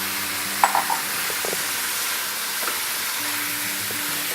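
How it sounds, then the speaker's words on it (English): Minced meat and celery fry in a pan for a pasta bake, a dense continuous sizzle close and loud throughout, with a few utensil knocks and scrapes as the mixture is stirred. "I'm going to keep stirring this until the meat starts to turn brown."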